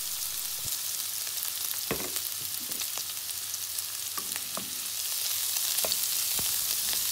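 Pork belly and garlic fry in a pan with a steady, bright sizzle, broken by occasional crackles and spatters from the hot oil.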